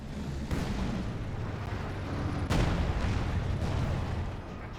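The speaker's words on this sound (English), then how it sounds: "This gun barrage coming in the middle" A distant artillery barrage in Company of Heroes 2 rumbles steadily, with a couple of heavier booming impacts standing out from the continuous low roar.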